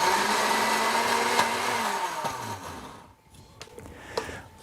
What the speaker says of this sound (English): grind them up in a blender, not very thinly and only just for a few seconds